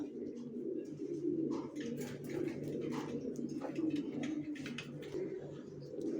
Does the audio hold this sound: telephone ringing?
no